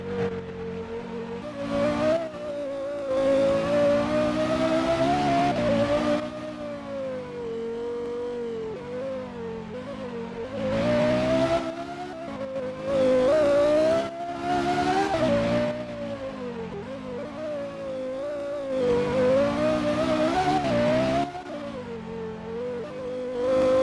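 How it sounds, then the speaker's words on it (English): A high-performance car driven flat out around famous street-circuit corners at night, its loud engine rising and falling through repeated revs and gear changes, with brief lifts between accelerations and no talking. "enjoy these moments as I drive around these famous streets and these famous corners right now"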